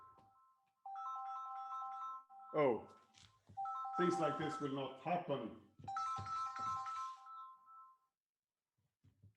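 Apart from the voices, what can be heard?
mobile phone ringtone ringing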